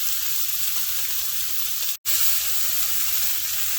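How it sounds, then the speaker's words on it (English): Bacon strips sizzle steadily in a hot pan, a dense close crackle that cuts out for a moment midway and then resumes just as strong. "I'm just turning the bacon as it cooks"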